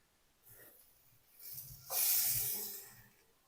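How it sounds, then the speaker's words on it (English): Chicken thighs placed skin side up on a hot BBQ grill give a soft hiss that swells into a louder sizzle, close and without talk. "You hear it sizzle. Sounds great."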